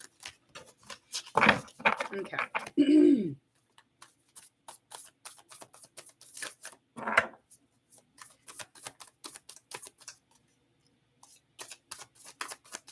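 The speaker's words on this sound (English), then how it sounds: "One more shuffle." Rapid riffling and soft card-slapping of tarot cards in bursts, close and quiet, with a brief spoken word in between.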